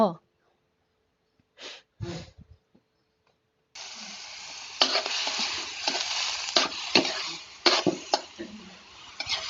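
Pork sizzles as it is stir-fried in a pan for a Thai khi lek curry with coconut milk, with steady frying hiss and repeated stirring scrapes following a quiet start with a few brief sounds.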